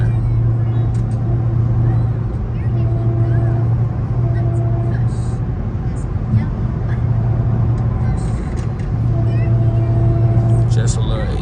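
A Hellcat cruises on a damp expressway after rain, giving a steady low engine drone and road rumble from inside the cabin, with faint hum and wind noise throughout.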